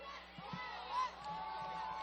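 A football crowd at a high school game between Enterprise and Paradise cheers and whoops, a steady, moderately distant roar of many voices that swells briefly in the middle.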